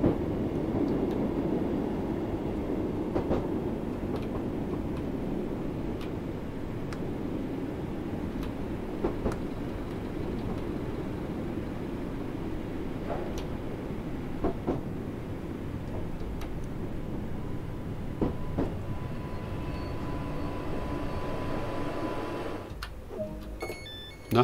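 Interior rumble of a Class 484 electric train running on the Island Line in Train Sim, a steady low drone with faint periodic clicks and rattles, no talk over it.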